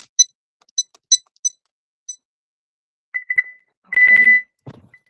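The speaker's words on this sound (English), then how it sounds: "let's set the alarm" A home alarm system keypad chirps as it is being set: a run of short, evenly spaced electronic beeps, then a few lower tones and a longer sustained beep, close and clear with nothing else around.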